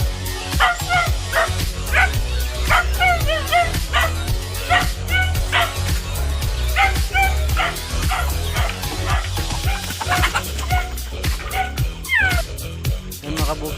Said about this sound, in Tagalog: Dito magpapakain ng